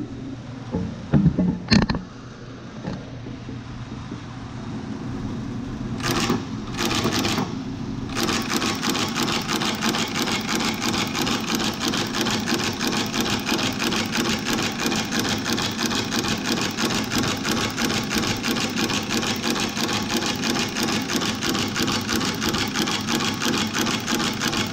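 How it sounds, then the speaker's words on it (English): An Acme Interlake S3A 7/8-inch flat book and saddle stitcher runs with a foot pedal, giving a few sharp clunks at first, then a long steady loud mechanical whir with rapid rhythmic clatter close by. "I'll demonstrate it operating."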